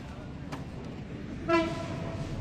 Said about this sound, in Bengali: ওই যে ট্রেন যাচ্ছে পাশেই railway station Naldanga railway station পাশেই